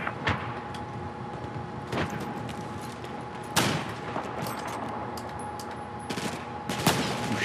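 Battlefield 4 firefight with sustained gunfire throughout, sharp loud shots standing out near 0.5, 2, 3.6 and 6.8 seconds over a constant rumbling background of combat noise.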